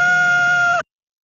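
A single rooster crow, loud and close, a sustained harmonic call lasting under a second and cutting off abruptly, with nothing else around it.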